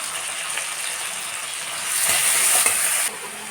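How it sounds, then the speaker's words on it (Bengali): Spice paste of cumin, green and dried chilies, ground onion, garlic and ginger with turmeric and salt frying and being stirred in a pan, a steady close hiss that swells louder for about a second near the end, with no talk. "একটু জল দিয়ে কষে নেব মশলাটাকে"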